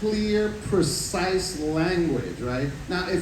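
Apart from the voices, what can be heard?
No everyday noises stand out.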